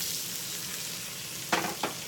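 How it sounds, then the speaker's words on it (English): Salmon fries in a little oil in a pan, a steady close sizzle with two sharper spatters near the end, no voices. "you see it just frying up here. I just got a little bit of oil in the pan"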